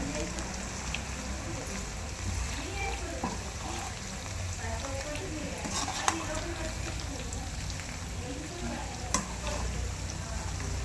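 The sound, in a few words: stirring and frying prawn biryani ingredients in a pan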